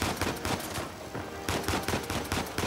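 Heavy automatic gunfire from the shooter game Uncharted 4, loud repeated rapid bursts with a short lull in the middle.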